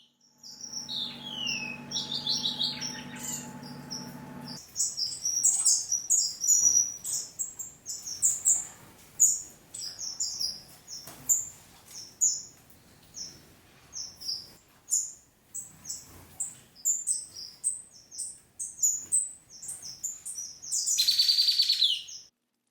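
Young captive finches chirping: a busy stream of high, quick chirps and tweets repeating throughout, fairly close, with a brief low mechanical hum at the start and a burst of noise near the end.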